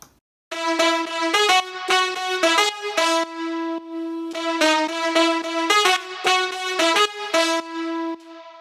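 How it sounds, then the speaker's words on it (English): A bright, brassy two-layer synth horn lead plays a punchy melodic phrase of short stabs and held notes, loud and upfront with no other sounds. "So I'll start with that horn lead."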